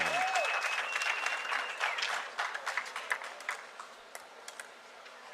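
Applause from the crowd at a pro pickleball doubles match at the Sacramento Vintage Open, a dense burst of clapping that thins into scattered individual claps as it fades, with a brief whistle early on.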